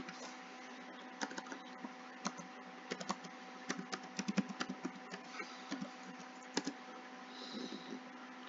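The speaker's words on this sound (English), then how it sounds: "I'll type in my password." A password typed on a computer keyboard during Windows Server 2008 setup, with irregular bursts of crisp key clicks over a faint steady electronic hum.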